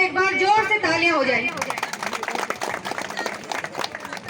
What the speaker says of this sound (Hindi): मैं चाहूंगी माननीय मंत्री जी के लिए एक बार जोर से तालियां हो जाए।